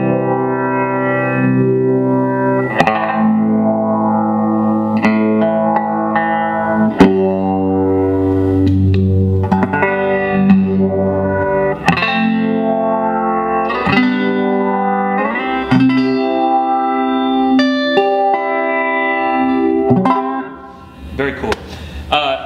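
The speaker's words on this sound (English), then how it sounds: "It's got a really lush, almost phaser sound." A Moog MF-105M MIDI MuRF pedal runs a lush, phaser-like filter pattern over sustained, slightly distorted notes, with rhythmic sweeps pulsing steadily and loudly throughout before easing off near the end.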